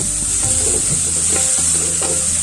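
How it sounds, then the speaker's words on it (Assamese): Green chillies, ginger and garlic fry with tomatoes in a pan for a pea ghugni, giving a loud, constant close sizzle. Soft scraping strokes of stirring run beneath it. "আৰু এতিয়া লৰাই দিম ধুনীয়াকৈ, মানে জলকীয়া আদা নহৰুখিনি মিক্স হ'বলৈ।"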